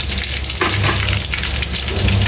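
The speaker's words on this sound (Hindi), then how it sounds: "अब ऐसे ही हम सारे कोफ्ते फ्राई कर लेंगे पहले।" Kofta meatballs fry steadily in hot oil in a pan, a dense, continuous sizzle with a brief louder surge partway through and no voices.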